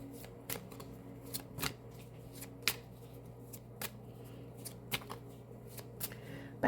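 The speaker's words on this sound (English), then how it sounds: "I like to shuffle until I get something that flips" Tarot cards being shuffled by hand, a run of soft, quick riffling taps and flicks at irregular intervals over a faint steady hum, close and quiet.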